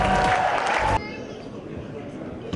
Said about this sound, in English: Can we hear once again a big round of applause for Mr. Vijay Singh?